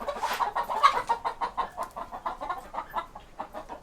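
Chickens clucking rapidly in a rhythmic, agitated run of short calls while a small cat comes near, moderately close and unbroken, with no talk.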